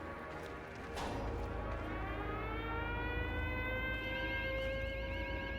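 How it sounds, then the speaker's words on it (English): An alarm siren blares in a reactor facility, a steady, wailing electronic tone with rising and sliding pitches that swells and holds at moderate loudness over a low background hum. "Wait, did we activate the alarm or is that automatic?"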